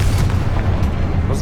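A Confringo spell explodes in Hogwarts Legacy, a short, loud, booming fiery blast with dense low rumble that holds steady through the whole moment.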